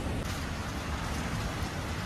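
Heavy rain falls steadily during a stormy night, a dense, loud, unbroken hiss of drops on surfaces with no voices.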